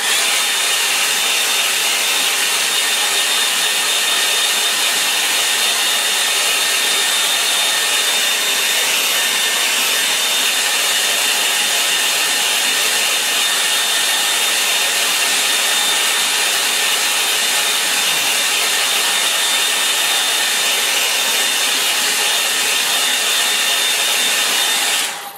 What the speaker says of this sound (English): Sort out my electrics, hairdryer